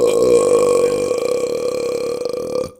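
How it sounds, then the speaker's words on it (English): One long, loud, deep burp lasting several seconds, steady and throaty with a rough, rattling tail before cutting off, close to the microphone. "That was a solid burp, too."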